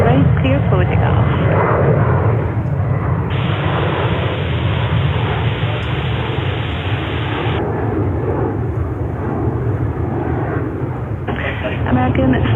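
An airliner's jet engines roar on takeoff from runway 13 Right at JFK Airport in New York, a broad, steady rumble throughout, heard under radio chatter from the control tower.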